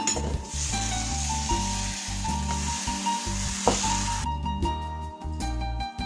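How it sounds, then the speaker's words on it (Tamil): Green gram appam batter sizzles and hisses steadily in a hot appam pan over low flame as it is swirled, with a continuous close frying crackle and occasional light scrapes, no voices. "ஒரு கரண்டி மாவு ஊத்திட்டு இந்த மாதிரி நல்லா சொலட்டி விட்டுக்கோங்க"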